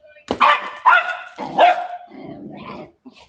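A small Westie mix dog loose on the streets gives about four sharp, close barks in quick succession, ending in a softer trailing yip.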